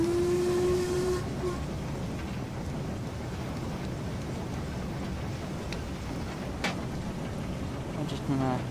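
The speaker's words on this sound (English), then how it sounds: "Just blowing the whistle as we're coming through the platform because we are not stopping." A Black 5 steam locomotive sounds its whistle in the Train Simulator 2021 game, a short clear tone at the start and another brief blast near the end over steady rolling rail noise.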